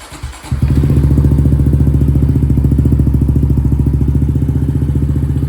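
A 2023 Honda Trail 125 motorcycle engine with a titanium exhaust cranks and catches, then settles into a loud, steady, rapid idle thrumming close by.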